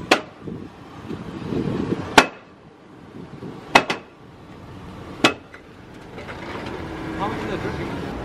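A Chevrolet Suburban with a worn front axle assembly makes four sharp, loud pops, spaced a second or two apart, over a quiet rumble, with faint voices in the background.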